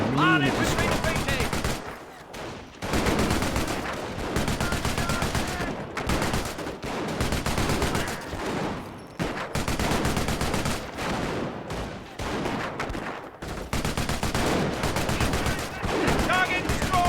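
Sustained bursts of MG emplacement machine gun fire in the Company of Heroes video game, long rattling volleys broken by brief pauses, loud and dense, with battle chatter from soldiers' voices in between.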